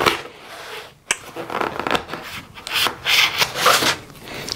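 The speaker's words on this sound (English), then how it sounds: "Sometimes cutting the tape sounds nice." An old M4 bayonet rasps and scrapes through packing tape in several rough, uneven strokes, close up, with gritty tearing pauses between pulls.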